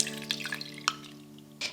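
Warm water is poured into a mixing bowl with honey and yeast for gluten-free sourdough bread, heard as a few brief splashing drips over a steady low hum.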